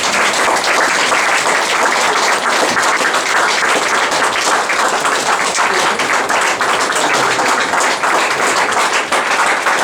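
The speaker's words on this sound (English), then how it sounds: "I think everyone can give her a huge round of applause" An audience at a young artists' competition evening in 2013 gives sustained applause, a dense steady wash of many hands clapping, loud and continuous throughout without voices.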